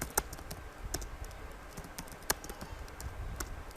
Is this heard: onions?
no